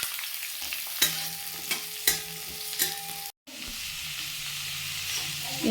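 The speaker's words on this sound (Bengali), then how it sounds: "ডুমো ডুমো করে পেঁয়াজ কেটে রাখা আছে, সেই পেঁয়াজগুলো দিয়ে একটু ভেজে নেব" Diced onions fry in oil with ginger, garlic and chili for chilli cauliflower, a close steady sizzle broken by a few spatula knocks against the pan and a brief silent gap, with no voices.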